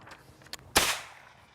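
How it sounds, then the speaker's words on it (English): Trip alarm set off with a ram-set cartridge, giving one sharp loud crack that fades out, with a fainter snap just before it. "do that all day, man. It's like firecrackers."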